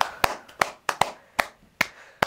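A child claps hands in a children's follow-the-leader game, seven sharp single claps at a steady, slightly uneven pace, close and clear with quiet gaps between.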